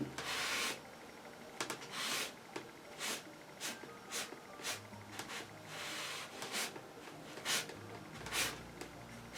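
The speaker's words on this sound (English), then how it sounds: "As I scrape it off, you get this rather bright light coming from it." A palette knife scraping oil paint off a cubist-style portrait on canvas makes a series of short, dry rasping strokes in an uneven rhythm, each scrape close and fairly clear, with no talk over it.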